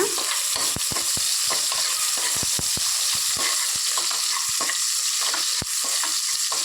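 Ginger, garlic and onions sautéing in hot oil for a curry, a continuous close sizzle broken by frequent sharp clicks of a spoon stirring the pan, no talking.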